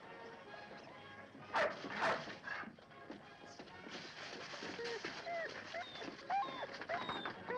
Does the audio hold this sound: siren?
no